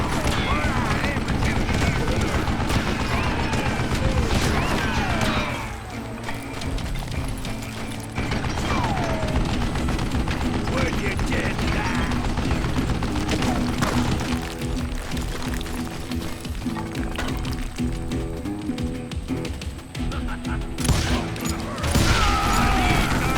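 Sustained gunfire from a mounted gun in the Western shooter Call of Juarez: Gunslinger, loud and dense with rapid repeated shots, layered with game ambience and occasional voice.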